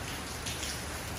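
Rain falls steadily outdoors, a soft, even patter of drops on surfaces heard close by for a brief moment, with no voices.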